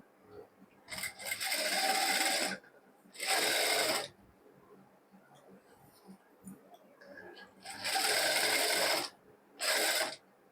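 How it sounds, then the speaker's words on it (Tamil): Sewing machine stitching a maxi dress in four distinct bursts of fast, whirring mechanical stitching, loud and close, separated by quiet pauses. "கரெக்டாக அந்த நாச்சஸ் போட்ட இடத்துல வச்சு ஸ்டிச் பண்ணிக்கோங்க"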